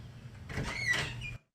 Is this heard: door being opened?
yes